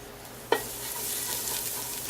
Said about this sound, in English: So you're gonna wanna saute your garlic just a little bit in some oil.